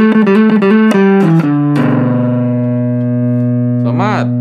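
Bass guitar played through a NUX Mighty Bass 50BT amp with a distortion effect, loud gritty notes picked in a quick run and then held as a long buzzing sustained tone.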